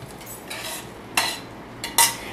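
Mushrooms, green chilies, corn and butter go into a pot of chicken and green chile soup, with light metallic clinks and scrapes of a utensil against the pot and a couple of sharper taps, no talking.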